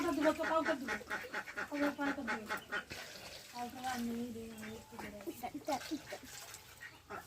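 Several ducks quack repeatedly nearby in a busy, overlapping chorus, with a voice talking over them.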